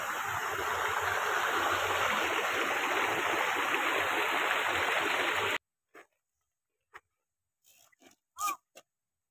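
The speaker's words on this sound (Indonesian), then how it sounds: "ini dia airnya itu yang tadi" A flowing water stream rushes steadily and loudly for several seconds, then cuts off abruptly, leaving near silence broken only by a few faint, brief sounds.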